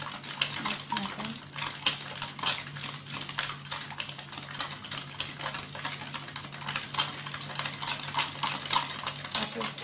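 Sugar is stirred into cucumber, ginger and lemon juice with a spoon, giving rapid, close clinks and scrapes in an uneven rhythm over a low steady hum.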